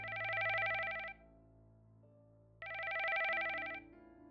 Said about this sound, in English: until my work phone rang.